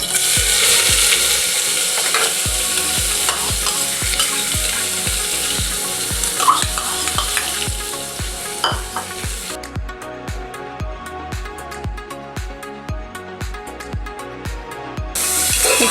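Onions stirred and fried toward golden brown for a coconut milk mutton gravy, a steady sizzle under rapid rhythmic clicking scrapes of a spoon against the pan, loud and close.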